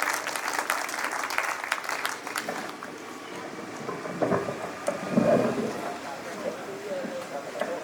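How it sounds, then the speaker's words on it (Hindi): Audience applause at a Hindi poetry recital for Pratap Jayanti rattles loudly at the start, then fades as a voice begins speaking over the hall. "जोरदार तालियों की गड़गड़ाहट"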